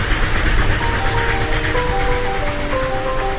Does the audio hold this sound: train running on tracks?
yes